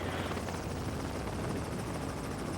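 Steady, loud helicopter rotor noise from a helicopter flying low fills the whole stretch, a dense continuous roar without talking.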